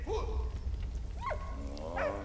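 Dog barking in the video game Valiant Hearts, three short yelping barks spaced apart over a low rumbling background, fairly close.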